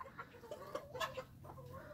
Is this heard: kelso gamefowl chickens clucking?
yes